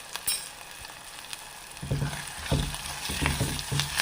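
Onions sauté with salt in a hot pan, giving a steady close sizzle that swells after a moment as stirring scrapes through it.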